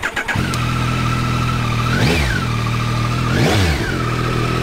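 A 2021 Yamaha Tracer 9 GT motorcycle engine idles with a steady low rumble, then revs up sharply twice, each rev rising and falling back, loud and close with no talking.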